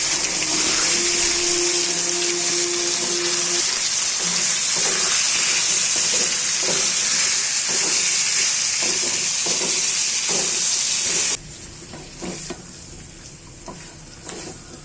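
Raw pumpkin fries in a pan with chili, turmeric and coriander powder, giving a loud, steady sizzle with repeated scraping stirs, then the hiss drops off sharply near the end, leaving quieter scrapes.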